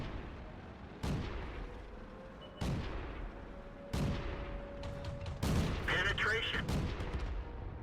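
Tank cannon shots in World of Tanks, with four or five sharp, loud booms spaced about a second or more apart, each decaying into a rumbling tail, plus engine hum and game effects between them.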